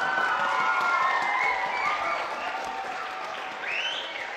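Applause from a large audience at a Norwegian show as a performer is welcomed on stage, a steady loud wash of clapping with faint crowd voices, slowly easing toward the end.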